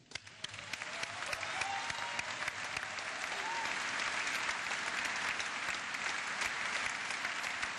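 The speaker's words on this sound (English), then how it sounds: "please join me in a round of applause for the Corps." An audience at a military mass reenlistment ceremony breaks into applause, scattered claps that swell within a second into loud sustained clapping lasting to the end.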